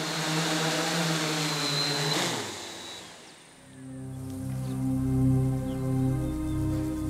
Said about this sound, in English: The helicopter has passed the flying test, but it may have noise issues.